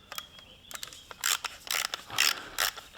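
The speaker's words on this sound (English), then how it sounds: "Just get that screw out, that wood will just come off." A large Phillips screwdriver backs a loose screw out of the wooden stock of a Benjamin Sheridan air rifle, giving a quick run of close, dry ratcheting clicks and scrapes that come in short uneven bursts.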